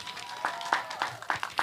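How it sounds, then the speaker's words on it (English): Audience applause for a secondary school team at a school STEM quiz competition, a short burst of scattered, moderately loud claps with a few stronger hits. "Let's give them a round of applause."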